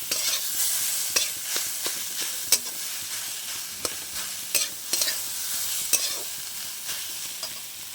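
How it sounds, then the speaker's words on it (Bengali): A spoon stirs sugar and turmeric through a frying pan, giving repeated scraping clicks at an uneven pace over a constant close sizzle of hot oil. "দিয়ে আবার আমি ভালো করে নেড়ে চেড়ে নেবো।"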